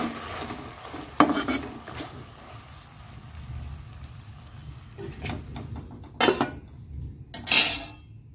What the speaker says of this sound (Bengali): আর এদিকে ভেন্ডিটাও হয়ে গেছে, দেখো সুন্দর জায়গায় হয়ে গেছে। নাড়িয়ে নিচ্ছি এটা।